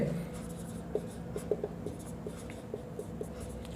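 Pen or chalk scratches out physics notes on energy loss, a quiet series of short strokes and taps against a faint steady room hum.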